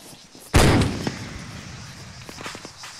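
Gunfire from the military video game ArmA 3 sounds as one sharp, loud blast that decays slowly, followed by faint scattered pops and distant activity.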